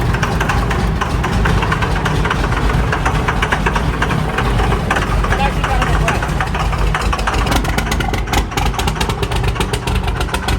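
A turbocharged Can-Am side-by-side engine runs loud and steady the whole time, a rough idle with knocking pulses, with voices mixed in.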